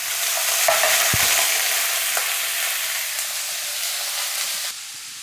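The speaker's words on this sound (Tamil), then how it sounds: "இப்போ சேர்த்துட்டு நல்லா வதக்கி விட்டுக்கோங்க." Chopped, peeled bottle gourd stirred and sautéed in a hot pan, a steady loud sizzle with scraping stir strokes running throughout, easing slightly toward the end.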